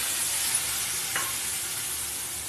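Onions with sliced green chillies fry in a pan as masala spices go in, giving a steady close sizzle and stirring with a brief scrape partway through.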